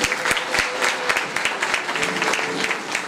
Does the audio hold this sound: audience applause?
yes